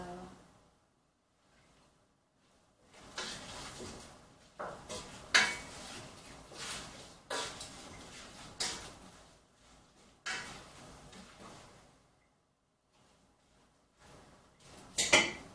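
Metal utensil scraping and clattering in a pot while stirring a cardoon dish, in intermittent bursts separated by quiet gaps, close and moderately loud.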